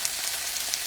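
Peas and quinoa sear in a hot pan, giving a steady, close, hissing sizzle with small crackling pops throughout the short moment.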